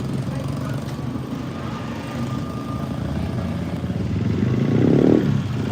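Street traffic in the Philippines with a motorbike engine droning steadily and swelling louder as it passes close near the end, over a dense, rumbling urban background.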